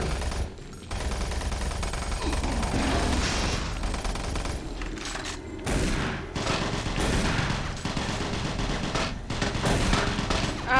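Heavy gunfire roars through Doom 3's Lost Mission expansion, dense booming blasts repeating in quick irregular succession over a constant loud clamour of combat noise.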